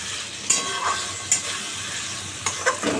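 Chickpeas stirred in hot oil and spiced masala give a continuous sizzle broken by several sharp spoon scrapes against the pan, with no speech.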